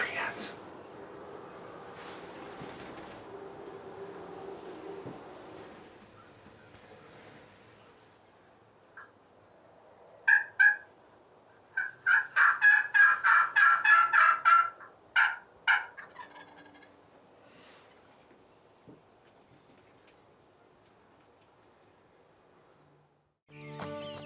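A big male turkey gobbles loudly in a burst of repeated calls, coming in with three hens; the gobbling stands out clearly over quiet outdoor background and soft whispering before and after.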